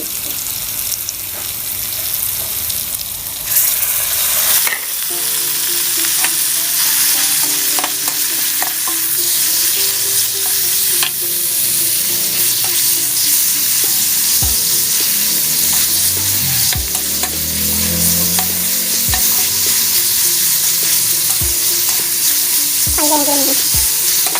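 Pork sizzles and fries in a pan for a stir-fry with napa cabbage, with loud, continuous crackling and the scrape of stirring throughout, and no talk.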